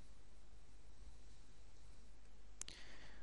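A single mouse click on an Add button in a Visual C++ file dialog, a brief sharp tick near the end, close and alone over faint room hiss.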